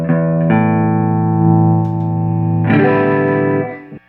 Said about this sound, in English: we're gonna go distorted so you guys can hear what this sounds like with a dual blade single coil pickup style